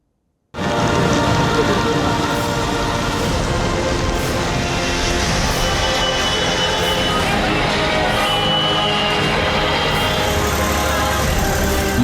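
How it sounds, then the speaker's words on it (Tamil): Heavy monsoon rain pours down in Mumbai, a loud, unbroken roar of downpour that starts abruptly after a brief silence and holds at full strength throughout. "மகாராஷ்டிரா மாநிலத்தில் குறிப்பாக மும்பை, தானே, பால்கர் மாவட்டங்களில் கனமழை வெளுத்து வாங்கியது"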